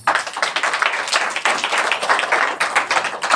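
A church congregation claps together for the Lord, a dense burst of many hands that stays steady and loud from start to finish, with no talking over it.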